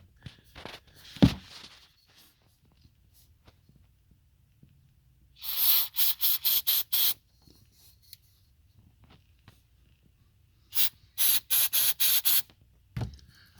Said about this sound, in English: we're just gonna spray it around this drain bolt and oil filter